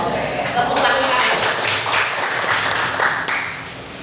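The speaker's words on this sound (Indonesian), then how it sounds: "tepuk tangan" A classroom of students claps hands together on cue for several seconds, a dense burst of clapping that fades toward the end, with faint voices mixed in.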